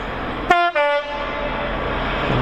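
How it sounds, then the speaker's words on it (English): Class 66 Freightliner freight locomotive sounds a loud two-tone horn at Tamworth on the West Coast Main Line, a sharp blast followed by a second held note, then the rumble of the train passing continues. "So there's a class 66 Freightliner heading, I believe, from Felixstowe up to Crewe Basford Hall."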